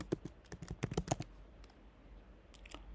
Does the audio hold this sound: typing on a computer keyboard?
yes